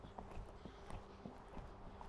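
Horse hooves on an arena surface picking up into a canter on a show-jumping course, a steady rapid clip-clop rhythm at close range with faint background noise.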